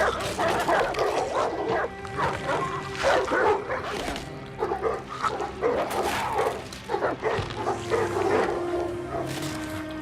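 Hounds bark and yip in a tense Game of Thrones battle scene, with repeated close, overlapping barks, snarls and whimpers in irregular bursts over a rumbling dramatic background.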